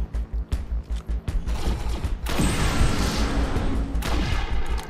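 Gunfire in the video game Defiance opens with a quick run of rapid shots, then becomes a loud, sustained roar of continuous fire and mechanical noise with no speech.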